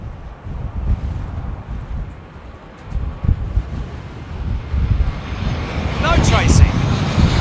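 A jet airliner passes at windy London Heathrow Airport, a steady engine roar under heavy microphone wind buffeting that builds toward the end, with a rising whine near the close; people talk nearby.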